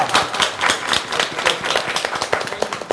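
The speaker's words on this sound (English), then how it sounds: "Or we have a clapping for medical staff." An audience at a macular and retinal surgery symposium claps for the medical staff, a dense, steady run of many hands clapping close by with no voices over it.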